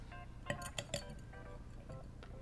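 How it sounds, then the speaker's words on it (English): Ice cubes clink into a glass while a gin drink is being made, a quick cluster of bright close clinks and knocks in the first second, then quieter settling taps. "Try and fit way too many ice cubes."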